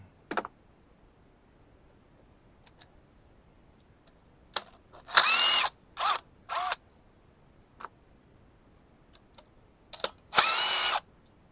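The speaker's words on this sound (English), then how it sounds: "Now we can go ahead and undo our 4 8mm bolts." A power drill or driver spins out four small 8mm bolts on a Jeep Liberty during a fuel injector replacement, heard as short bursts of high-pitched whirring with quiet clicks and pauses between them.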